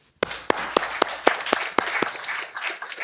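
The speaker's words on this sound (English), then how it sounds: "A round of applause for the courageous Stacy Njoroge." A small group claps for a speaker in a Kenyan short film, sharp individual claps in an uneven rhythm rising from sudden silence, close and distinct, thinning toward the end without voices.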